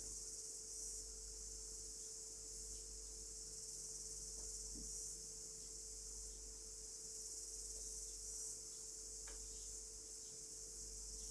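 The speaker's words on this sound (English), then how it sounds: "I feel my whole body is resonating with the sound of cicada." Steady, high-pitched cicada buzzing drones on without pause, with a low constant hum beneath and no voices.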